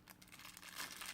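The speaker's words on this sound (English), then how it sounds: "I'm having a heck of a time trying to get the plastic bag out of here." A plastic bag crinkling as it is tugged out of styrofoam packaging holding a vape RDA and spare parts, a brief close rustle with no speech.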